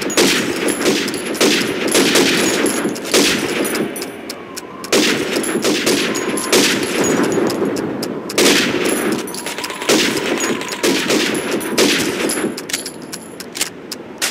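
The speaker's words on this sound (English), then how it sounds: "You have 15 seconds to shoot the helmets." Rifle fire at helmet targets on a training range in the video game Call of Duty 2, loud rapid shots in dense bursts separated by brief pauses, close and continuous with no talk.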